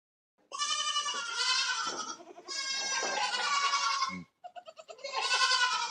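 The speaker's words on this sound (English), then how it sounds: "Better than the screaming goats." A screaming-goat ringtone: long, loud, strained bleats, three drawn-out cries separated by brief stuttering gaps, close and piercing.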